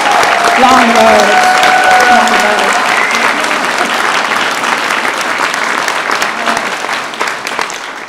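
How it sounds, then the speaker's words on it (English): Loud, sustained audience applause at a state bill-signing ceremony fills the room, with voices speaking faintly underneath early on and the clapping slowly thinning toward the end. "And I think we give a round of applause because it's been a long,"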